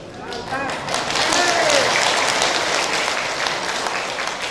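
Village congregation at an Islamic sermon gathering in Bua, Luwu, breaks into steady, dense applause that swells and holds for several seconds, with voices and cheers rising through it.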